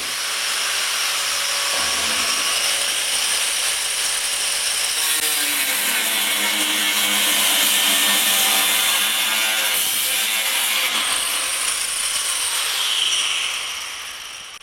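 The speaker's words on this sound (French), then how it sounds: "Vous tronçonnez une chaise là?" Loud power saw grinding steadily through a chair, a harsh continuous buzzing cut close by that holds for over ten seconds before tapering off at the end.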